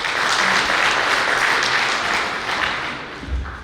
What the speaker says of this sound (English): Let's clap for ourselves, please